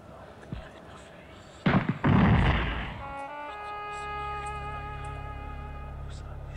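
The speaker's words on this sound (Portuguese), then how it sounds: "E a gente tem que dar um tiro" Two sharp, heavy gunshot blasts in quick succession in the PS1 video game Nightmare Creatures, followed by a sustained electronic hum and ringing tones.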